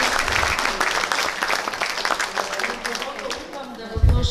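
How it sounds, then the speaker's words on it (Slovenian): Audience applause at a student concert staged by a student society in Brežice, a dense crowd clapping throughout with voices mixed in, swelling briefly near the end. "en aplavz za njih, tako no."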